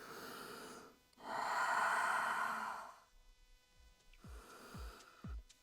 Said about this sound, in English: Deep inhalations through the nose, even deeper exhalations through the mouth